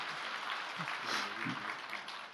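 Applause from a church congregation during a Sunday morning worship service, a continuous moderate clatter of many hands clapping, steady and fairly soft for the whole stretch.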